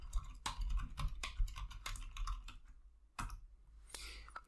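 Irregular bursts of clicky keystrokes on a computer keyboard, close and fairly quiet, with short pauses between runs of typing.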